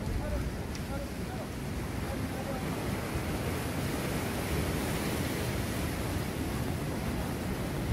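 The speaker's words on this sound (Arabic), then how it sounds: "البحر يكون قاصح هنا شوية." Rough sea off the Moroccan coast during a fishing trip, a continuous broad wash of surf and wind noise holding steady throughout at a fairly loud level.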